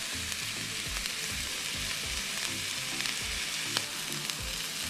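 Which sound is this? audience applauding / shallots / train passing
shallots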